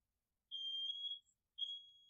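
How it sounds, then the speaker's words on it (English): Fire alarm with low batteries chirping indoors, two sharp high-pitched electronic beeps each lasting about half a second, separated by a short gap, fairly faint with no talk. "there goes my fire alarm again"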